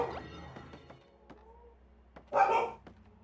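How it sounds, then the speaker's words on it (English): A pet dog barks indoors at home, a few sharp yips followed by one louder, fuller bark near the end, at moderate distance with no talking. "my dogs are barking"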